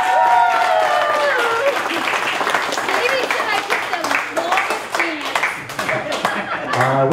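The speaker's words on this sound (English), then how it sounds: "Applause for their first dance together" Guests at a wedding reception clap and cheer for the couple's first dance, sustained applause with scattered laughter and a voice or two calling out over the crowd, loud and close throughout.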